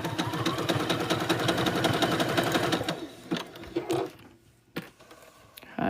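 A sewing machine runs a zigzag stitch along a fabric edge for a boxy bag, a fast, steady mechanical rattle for about three seconds, then stops, leaving a few soft clicks and handling noises.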